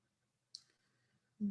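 A computer mouse clicks once on a link, a crisp, close, fairly faint tap followed after a short pause by a duller, louder thump.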